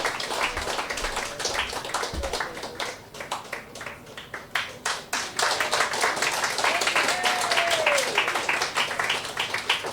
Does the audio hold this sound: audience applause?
yes